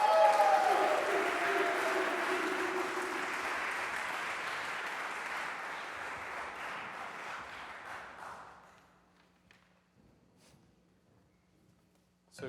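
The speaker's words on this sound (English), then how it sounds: "Please round of applause for the first performer." Warm audience clapping for the first performer at a trombone symposium masterclass, loud at first and thinning out over several seconds before fading to near silence.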